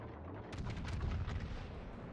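Naval artillery fire in the World of Warships naval combat game: heavy booming gun salvos rumble continuously, with a few sharper blasts standing out in the first second, moderately loud with no talk over them.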